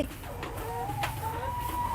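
Backyard egg-laying hens cluck and murmur close by in short repeated calls, a rising note or two among steady farmyard background noise; no talking.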